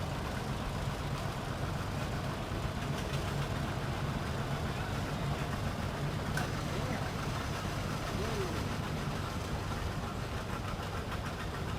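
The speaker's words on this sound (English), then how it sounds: "this is a 1985 Yamaha Zinger, and it is driven by Ren Ernst and passenger" A small 1985 Yamaha Zinger engine runs steadily in a rural Kansas threshing bee tractor parade, a continuous low drone blended with crowd ambience while an announcer talks over it.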